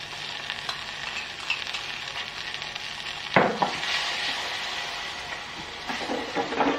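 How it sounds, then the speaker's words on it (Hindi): A paste of ground almonds and milk sizzles in hot ghee as it is stirred, a steady close frying hiss with a louder burst partway through and scraping stir strokes. "ये जो मैंने बादाम और दूध थोड़े पीसे हैं वो मैं इसमें डाल दूंगी।"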